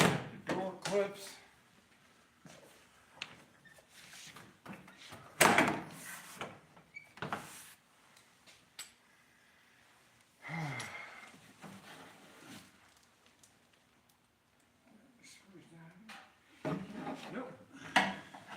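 Plastic trim clips snap and pop as a Chevy van's interior door panel is pried loose with a screwdriver, giving sharp, uneven knocks and creaks in clusters with quiet gaps between them.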